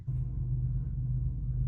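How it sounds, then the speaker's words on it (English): A passing train rumbles low and steady, a continuous heavy drone with no voices, heard from a campsite where trains run through the night. "That is the sound of yet another train going by."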